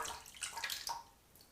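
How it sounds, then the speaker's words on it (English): Wet squelching and swishing as a little water is worked into a River Valley Trading "Chapmunk" shave soap lather, brief and fairly faint at close range, with soft splashy texture that fades toward the end. "One final little bit of water to get worked in there."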